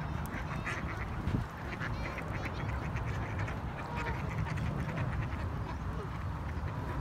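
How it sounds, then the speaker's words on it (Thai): White geese honk and quack in a noisy group, overlapping calls repeating continuously at close range over outdoor background noise. "ห่านขาว"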